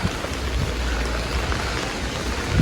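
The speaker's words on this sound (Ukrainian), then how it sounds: "Ой, взагалі такий дощ пустився." Heavy rain pouring down outdoors, a dense, steady hiss of drops striking surfaces, loud and unbroken from start to finish with no voices.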